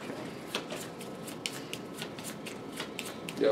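Exploding Kittens playing cards being shuffled by hand, a run of quick riffling rustles and soft snaps repeating at a steady pace, close and moderately loud, with no talking.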